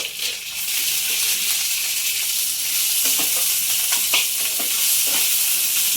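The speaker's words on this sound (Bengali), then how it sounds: "আদা রসুন থেকে কাঁচা গন্ধ চলে গেলে এই পেঁয়াজ কুচনোটা দিয়ে দেবো" Chopped onion fries in oil with ginger and garlic, giving a loud, even, hissing sizzle, with a few soft spoon scrapes now and then.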